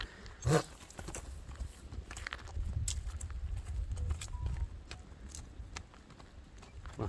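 A horse walking on its own, its hooves clip-clopping in a loose, uneven rhythm at moderate distance, with a louder knock near the start and soft outdoor background throughout.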